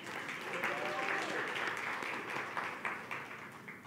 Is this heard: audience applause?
yes